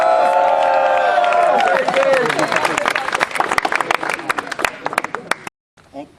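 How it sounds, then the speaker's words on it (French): At a French rap battle, the audience breaks into loud clapping and cheering after a held vocal note. Dense applause builds, then thins into scattered claps before cutting to near silence. "veuillez applaudir Slow Jess"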